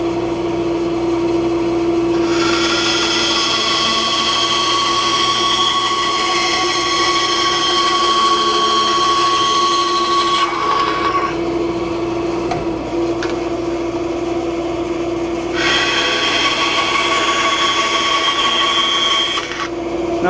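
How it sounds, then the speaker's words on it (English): A bandsaw slices through a guitar nut blank during a shop build of a 1964 ES 335 replica guitar. The machine hums steadily throughout, with two distinct cutting passes adding a louder, hissing whine over the motor. "So we're going to go to the bandsaw real quick,"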